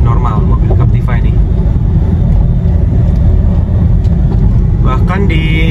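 Chevrolet Captiva 2011 diesel SUV accelerating up an incline, a steady loud engine and road drone from inside the cabin, with someone talking over it.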